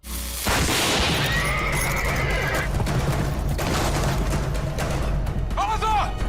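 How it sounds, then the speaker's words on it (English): Horses neighing and whinnying in a Merlin TV episode scene, loud and close over a dense bed of commotion, rumbling and clattering, with shrill calls rising through the mix. "Like someone's gonna try to scare the horses."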